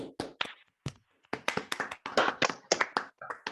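A few online attendees clap through unmuted microphones after a talk, scattered and uneven claps from a small group, close and sharp with brief gaps between bursts.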